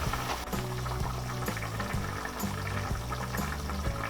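Beef stew with shiitake mushrooms boils in a covered pot, a steady close bubbling and gurgling simmer that runs on without pause, with no talking.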